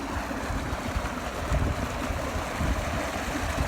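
Water gushes from a farm pump motor's thick outlet into a field channel, a continuous loud rushing and churning flow with low rumbling surges and no talk.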